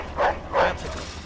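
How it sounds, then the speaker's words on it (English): A dog in the game Mafia 2 gives two quick, close barks in succession. "Look at that dog."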